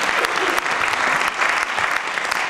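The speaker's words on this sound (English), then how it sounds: "Give a clap of hallelujah." A church congregation at a sermon claps in steady, dense applause for the whole stretch, loud and close, with faint voices mixed in.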